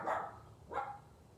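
A dog barks twice, a pair of moderately distant woofs spaced under a second apart against a quiet indoor background, with no talking.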